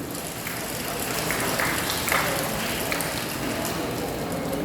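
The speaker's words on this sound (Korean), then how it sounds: "여기서도 박수 한번 오셔야 됩니다." Audience applause at a Monday morning education gathering, a dense, even patter of many hands clapping together, moderately loud and sustained for a few seconds without speech.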